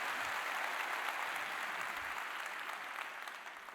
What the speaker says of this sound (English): Let's give them a round of applause for their service for our country